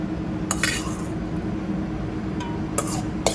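Spoon and dish clinks while an avocado mixture is spooned into a bowl in a restaurant kitchen: a few sharp metallic taps scattered over a steady low background hum, no talking.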